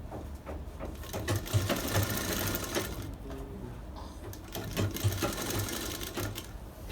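A sewing machine runs steadily and close up, stitching a bridal sharara with a continuous rapid whirring rhythm that swells and dips slightly across several seconds without talk.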